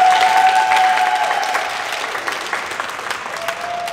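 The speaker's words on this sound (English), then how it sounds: "Another round of applause." An audience at an AmeriCorps swearing-in ceremony in Houston breaks into a sustained round of applause, dense and even throughout, with a faint tonal whistle or feedback line near the start.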